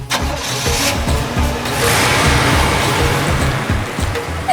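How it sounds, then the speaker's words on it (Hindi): A car engine cranks and starts, then holds a loud, close rumbling idle that builds as the vehicle revs and pulls away. "चलो गाड़ी चलाओ।"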